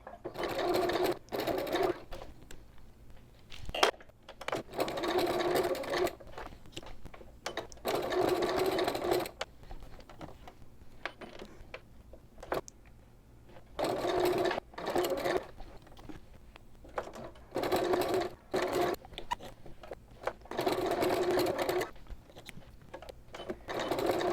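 A sewing machine stitches connectors onto a small boxed-bottom bag, running in bursts of steady rapid whirring with brief pauses between seams, close and clear with no talk.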